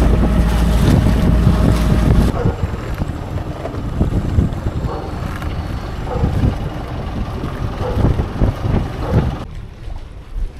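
A small boat pushes through shallow water off Montenegro, with a steady rushing wash and wind buffeting the microphone, loud at first and then easing into an uneven churning hiss that fades near the end.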